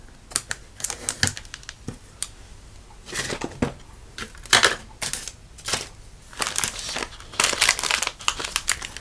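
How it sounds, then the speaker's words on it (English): Ribbon bow on a Valentine's Day treat bag being trimmed, giving short crisp snipping and crinkling bursts in an irregular rhythm, close and fairly quiet, with no talking. "I'm just going to trim the bow"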